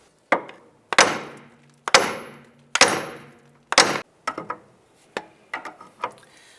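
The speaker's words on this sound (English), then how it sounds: "By doing the two hammers, it actually shocks the unit right here and pops that tie rod end loose" Hammer blows on a 2001-2005 Honda Civic strut knock the tie rod end loose: four loud, ringing metal strikes about a second apart, followed by several quicker, lighter taps, close up with no talking.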